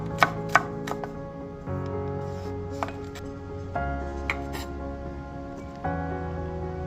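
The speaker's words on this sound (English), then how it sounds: "So let's chop some garlic up." Garlic being chopped with a knife on a cutting board, a few sharp quick knocks, then intermittent softer cuts, close and clear with no talking.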